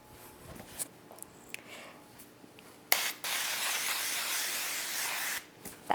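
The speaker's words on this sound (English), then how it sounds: "Now we're going to take some spray." A few soft taps and rustles, then a sustained hiss of an aerosol can of cooking spray spraying for about two and a half seconds, a brief pause, and another spurt.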